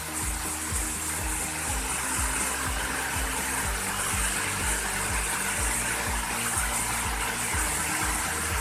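Rushing water at the Curug Bali waterfall makes a steady, dense broadband roar that continues without a break, with a low rhythmic throb underneath.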